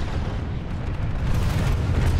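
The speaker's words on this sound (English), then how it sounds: "Just shoot rockets and throw grenades in there." Rocket and grenade explosions in the Planetside 2 video game during a bio lab siege, a dense, loud, continuous rumble of blasts and booms that swells slightly toward the end.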